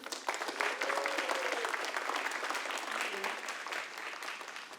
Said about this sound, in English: Everyone, one more round of applause for Regina.